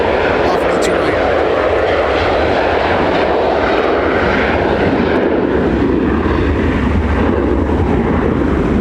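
Jet airliner departing Minneapolis–St. Paul Airport off runway 12 right during a winter storm, a loud, steady broadband engine roar sustained throughout, with faint talk underneath.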